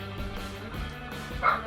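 A dog barks somewhere in the house, a few muffled yips and woofs set back at a distance with a slightly louder bark near the end.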